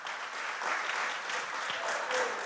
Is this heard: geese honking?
no